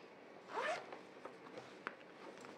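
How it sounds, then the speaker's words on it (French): A small backpack's zipper is pulled open in one quick, slightly sticky rasp, followed by faint rustling and a soft click; nearby and fairly quiet, with no talking. "la fermeture éclair avait un peu de mal"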